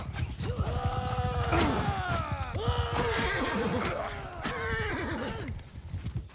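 Several horses neigh and whinny loudly over galloping hooves in a Mount & Blade II: Bannerlord battle, repeated drawn-out calls rising and falling above a continuous clatter of hoofbeats.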